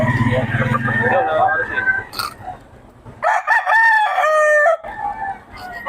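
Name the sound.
stag rooster crowing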